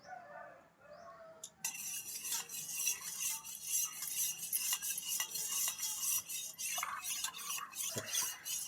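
A spoon stirs honey into a hot herbal betel leaf decoction, giving a steady run of soft scraping and light clinks against the vessel for several seconds, close by and without talk.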